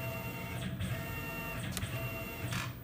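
A Tormach CNC mill makes a rapid Y-axis move, giving a steady whining motor tone with a few swelling whooshes as the axis accelerates and stops, heard alone.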